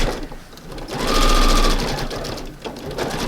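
Sewing machine stitching fabric for porch decor, a fast continuous mechanical whir that swells and then eases off, close and clear over a few seconds.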